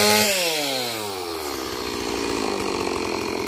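A chainsaw roars up and then settles into a loud, steady buzzing grind as it bites through the wood of a silk cotton tree, close by and continuous.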